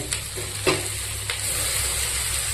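Tomatoes going into sautéed onions for spicy pepper chicken, a close steady pan sizzle with a few quick stirring scrapes at the start.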